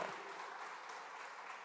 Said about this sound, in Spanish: Aplauda al Señor, hermano.